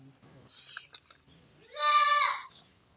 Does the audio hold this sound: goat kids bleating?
yes